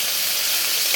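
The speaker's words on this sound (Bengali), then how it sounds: "মাছটা ভাজা হয়েছে সুন্দর করে" Tilapia fish frying in hot oil in a pan, a steady, close, bright sizzle with constant crackle and no voices.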